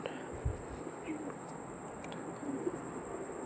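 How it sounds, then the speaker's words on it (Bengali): Mastan breed pigeons give a few soft, low coos, faint and spaced out over a steady background hum, with no talking. "অরিজিনাল মস্তান ব্রিডের পায়রা দেখুন"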